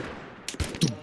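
Heavy, thudding gunfire from the video game Mud and Blood: three fast, punchy bursts in the latter half, loud and close, following a stretch of quiet background.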